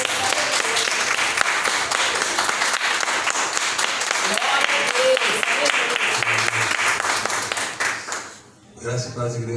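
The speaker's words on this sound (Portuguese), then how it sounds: "As palmas do Senhor" Worshippers at a Sunday communion service in church break into sustained, lively applause, a thick rattle of many hands that tapers near the end before a voice begins speaking.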